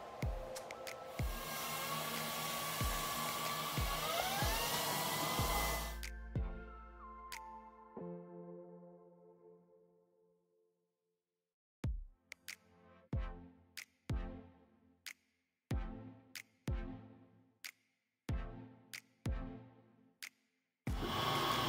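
A speed lathe runs with a steady whirring hum for about six seconds, then spins down and goes quiet, followed by a series of sharp separate clicks and knocks as parts are handled.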